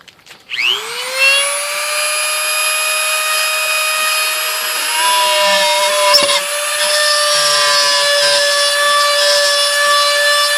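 A power tool, most likely a drill, cuts a hole in the center of a headlight housing beneath the bulb base while fitting Bixenon HID projectors to a Ninja 300 motorcycle. It whines steadily and loudly for about ten seconds, with a brief jolt partway through.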